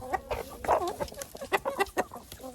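Hens clucking close by in a backyard coop, a string of short, uneven clucks and murmurs over about two seconds, fairly soft with no talking.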